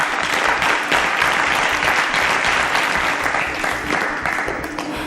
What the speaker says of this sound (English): A round of applause for Simi.